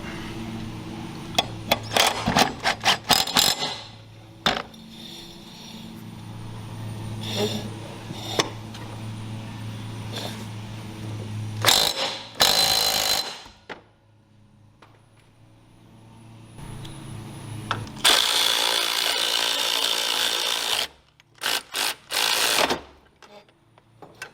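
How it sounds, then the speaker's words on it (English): A power tool tightens the spindle nut on the mower deck of a John Deere LA100 lawn tractor in a few short, loud whirring bursts, separated by quieter gaps of clanking and handling. "Now we're just going to tighten the spindle nut."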